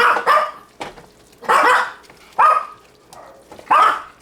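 Several dogs bark in short, sharp bursts, about five separate barks in quick succession, close by and clear over a quiet kitchen background.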